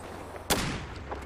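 A single loud, sharp sniper rifle shot in the video game Battlefield 4 on the Floodzone map, set against a low background hum and followed by a brief fading tail.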